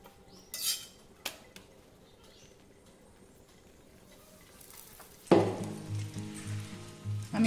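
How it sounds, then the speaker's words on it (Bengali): Chicken pieces drop into hot refined oil and start a loud, steady sizzle after a few faint clinks, close up and continuing without a break. "আমি এবার এটা রিফাইন তেল দিয়ে ভেজে নিচ্ছি"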